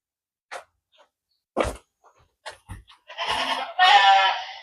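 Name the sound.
goats on a desert goat farm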